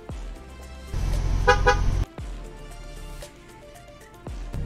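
A Ford truck horn blares in a loud, brief faulty double honk over an idling engine, which keeps running after the horn stops.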